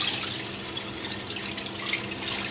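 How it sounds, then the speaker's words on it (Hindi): About fifteen glasses of water poured into a cooking pot of chicken haleem, a continuous, fairly loud rushing splash with a bright hiss that holds steady from start to end. "इसमें मैंने 15 गिलास के करीब पानी डाल रही हूँ।"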